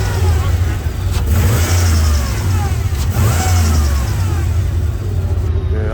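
A Chevrolet Impala SS at a car auction runs with a loud, close, continuous engine rumble and a steady deep drone that swells slightly as it revs, with no break in the sound.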